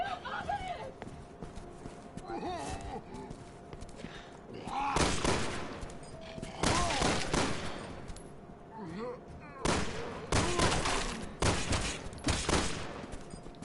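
Bursts of gunfire from the Resident Evil 6 video game, loud volleys clustered in several separate stretches over a busy background of game sounds, with speech-like voices mixed in at times.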